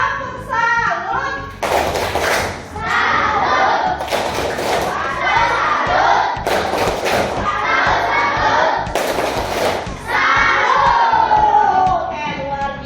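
A class of schoolchildren performs the 'tepuk salut' clapping chant, loud group chanting broken by sharp bursts of unison clapping and thumps that repeat several times, close and energetic.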